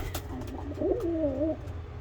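A single pigeon hen, a tippler, coos close by, a soft warbling rise and fall lasting about a second over a low background rumble.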